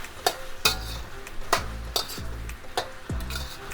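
Vegetables coated in teriyaki sauce are tossed in a hot pan. Crisp spatula clanks and scrapes repeat at irregular intervals over a light sizzle, close up and with no speech.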